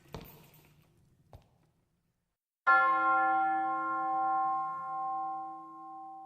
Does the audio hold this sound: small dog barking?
no